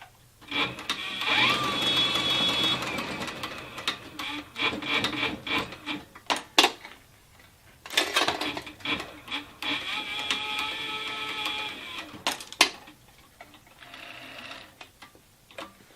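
A leather sewing machine for saddle making stitches saddle leather in bursts of rapid mechanical clatter, with short pauses between runs and a sharp clack near the end, close and loud.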